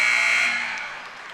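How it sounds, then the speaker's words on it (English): A loud, steady electronic buzzer sounds at the end of a high school basketball game, a single sustained tone that fades over its last half second as the crowd noise dies down. "Buzzer goes off."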